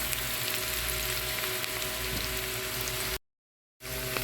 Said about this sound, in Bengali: পেঁয়াজটা একটু বাদামি করে ভেজে নেব এবং এখানে আদা বাটা রসুন বাটাটা দিয়ে দেব